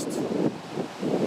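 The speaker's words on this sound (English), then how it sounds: "As you can tell, some days out here it gets pretty windy." Strong wind buffets the microphone on a Bay Area Pacific coast beach, a steady low roar with gusts swelling and easing, no voices.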